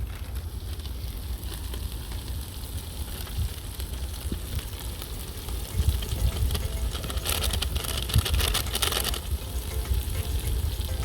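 Coriander-cumin powder and Kashmiri chili powder fry in hot oil for a spiced flatbread snack. The sizzle is constant and close, and it swells into a brighter crackle with stirring partway through.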